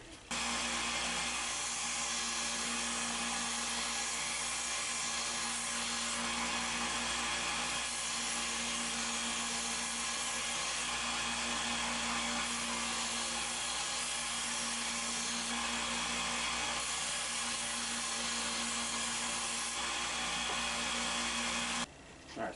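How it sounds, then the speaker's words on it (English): A belt grinder trims a homemade snorkel part for a Land Rover Discovery 2, giving a loud, continuous motor whine and abrasive hiss that runs steadily for over twenty seconds before cutting off at the end. "And then I'll take it to the belt grinder and trim it up."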